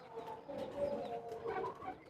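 A female Sialkoti pigeon gives a soft, brief cooing call, close but faint, in a couple of short murmuring phrases.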